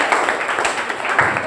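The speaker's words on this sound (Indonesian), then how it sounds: "Tepuk tangan lagi sekali boleh." Classroom clapping from pupils after a group presentation during a practice teaching session, a short burst of dense, overlapping claps at moderate loudness, with faint voices mixed in.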